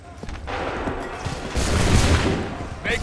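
A ragged volley of musket fire rings out in an Assassin's Creed III battle, a cluster of overlapping gunshots and booms building into a loud, rumbling crash over battlefield noise.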